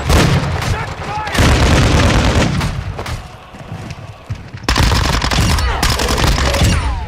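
Gunfire from a killstreak in Modern Warfare 2, loud dense bursts of rapid automatic fire with booming impacts, stopping briefly midway and then resuming.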